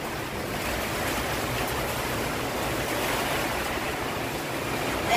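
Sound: stormy wind blowing

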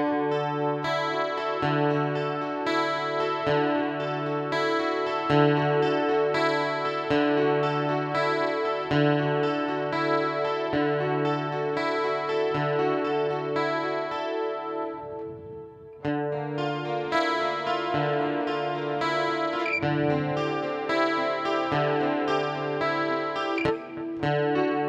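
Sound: acoustic-electric guitar with reverb effect through Boss ME-80

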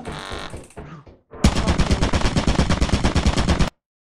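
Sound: gunfire in video game Lethal Company

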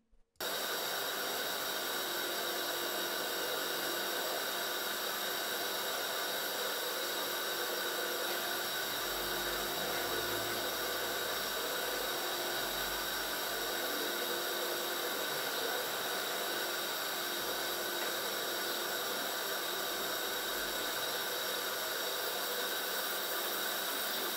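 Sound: Fissler pressure cooker hissing steam while cooking meat

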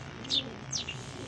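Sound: pigeons

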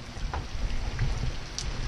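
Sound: heavy rain

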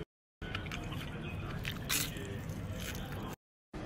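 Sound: eating crispy food

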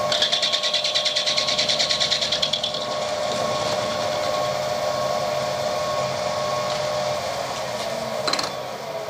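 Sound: machine running while machining a brass hex

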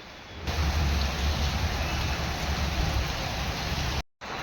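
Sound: heavy rain

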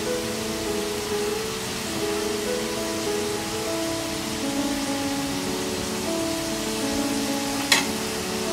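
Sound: tomatoes and potatoes frying in a pan on low flame

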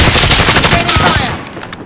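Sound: gunfire in a battle royale video game

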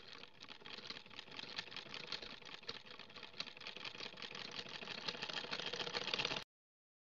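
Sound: sewing machine stitching pocket fabric onto palazzo

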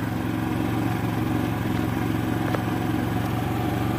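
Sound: Predator 3500 generator running

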